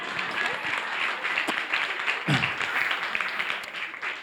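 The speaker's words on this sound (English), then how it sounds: "I think you can go ahead and give me a round of applause" Luncheon audience gives a round of applause, steady dense clapping throughout with a faint voice briefly heard midway.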